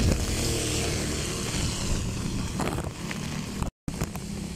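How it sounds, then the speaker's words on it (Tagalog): Strong wind during flooding in Paco, Metro Manila roars and buffets the microphone in a steady broadband rush with gusty swells, cut by a brief moment of silence near the end. "Ang lakas. Lakas ng hangin guys."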